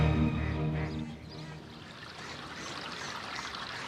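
A small garden waterfall trickles and splashes into an ornamental lake in the Buckingham Palace grounds. The flow is soft and steady, and a faint low hum fades out over the first second.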